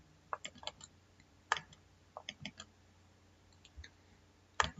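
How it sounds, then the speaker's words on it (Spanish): Sharp clicks from a computer mouse during programming work, several quick, close ticks spaced irregularly, including paired double-clicks, over quiet background. "Hacemos doble clic sobre menor."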